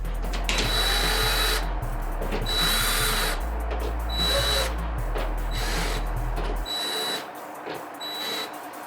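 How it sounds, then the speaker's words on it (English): Power drill whirring in repeated bursts as adjusting screws are driven into connected door frame profiles, short loud runs separated by brief pauses, with a faint high electronic tone in the background. "Tighten the connected profiles with the adjusting screws."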